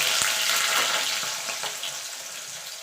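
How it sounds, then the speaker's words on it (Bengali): Potato pieces cut into chunks frying in hot oil for a Bengali jackfruit dish, a short burst of bubbling sizzle that fades slightly, close and alone. "এবার আলুগুলোকে ভেজে নেব।"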